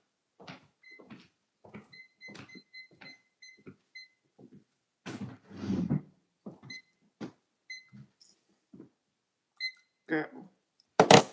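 A kitchen-style timer is set while practicing with a bassoon reed, giving a series of short, separate electronic beeps and button clicks spaced across the span, with bursts of rustling handling noise between them.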